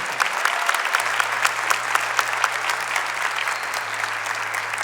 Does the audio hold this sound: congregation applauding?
yes